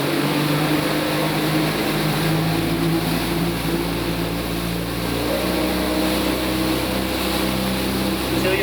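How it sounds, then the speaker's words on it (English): A motorboat's engine drones loudly and steadily as the throttle is pushed forward, the tone rising slightly as it accelerates, with broad wind and water noise around it and no talk. "Push the throttle forward. Start to accelerate."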